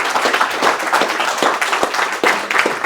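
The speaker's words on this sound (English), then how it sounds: "round of applause, Dave Delaney to the stage." An audience applauds as a speaker is welcomed onto a conference stage for a talk on mindfulness and money. Dense, steady clapping fills the whole stretch at fairly close range, with no voices over it.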